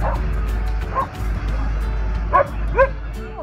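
A dog gives a few short yips and whimpery barks over a steady low houseboat engine rumble on the St. Croix, with faint voices in the background.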